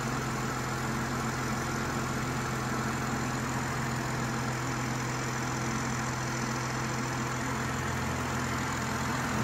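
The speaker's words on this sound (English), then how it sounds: "Really nice, smooth, effortless engine." A BMW X3 M40i's engine idles smoothly and steadily, a low continuous hum with a faint constant whine, recorded close with no talking and no change in revs.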